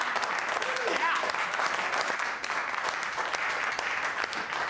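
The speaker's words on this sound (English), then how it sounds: "Why am I clapping?" A crowd applauds steadily at a workplace gathering, dense continuous clapping close and fairly loud across the whole stretch, with faint voices mixed in.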